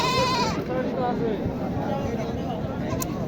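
A goat at a crowded goat market in Kaptan Bazar, Dhaka, gives one short, nasal bleat at the start, then the scene fills with dense crowd chatter and nearby voices.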